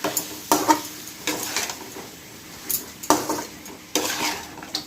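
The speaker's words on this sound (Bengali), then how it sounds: "হাই ফ্লেমে এটাকে নাড়তে থাকবো" Mutton stirred in a pot over high flame, with a series of sharp metallic scrapes and clinks of a spoon against the pot at irregular intervals over a faint sizzle, close up and without talk.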